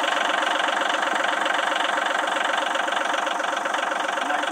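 A McConnel Robocut RC40 Gen 2 remote-controlled mower runs steadily with a loud, even engine drone and a rapid mechanical knock, holding the same level throughout with no talk.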